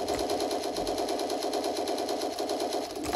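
Rapid automatic gunfire in an online shooter video game, a dense unbroken burst of shots at even rhythm, loud and continuous for the whole stretch, with no talking.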